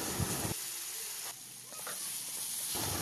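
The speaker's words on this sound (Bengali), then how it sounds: "তো এখানে আমি এখন সামান্য পরিমাণে জল অ্যাড করলাম, দেখো, নয়তো মশলাটা পুড়ে যাওয়ার ভয় থাকবে।" Masala sizzling in a pan just after a little water is added, a steady hissing fry that dips briefly in the middle and swells again, close and moderately loud with no voices.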